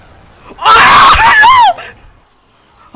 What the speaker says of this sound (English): I just hear Devilman screaming!